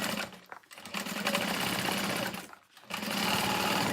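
A sewing machine runs at steady speed top stitching a Freesia fold-over bag at a long stitch length, with a dense even whir that stops briefly twice before resuming.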